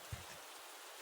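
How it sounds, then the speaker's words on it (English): Steady, fairly quiet hiss of rain falling in an animated scene, with one soft low thump near the start. "The rain keeps starting up."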